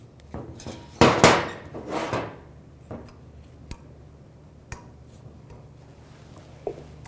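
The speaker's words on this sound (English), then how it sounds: "Put the pad slides on, or pad clips." Metal brake pad clips being fitted onto the rear caliper bracket of a 2010-2017 Chevrolet Equinox: a burst of close metallic clinking and rattling, followed by a few sharp, isolated clicks and taps in an otherwise quiet space.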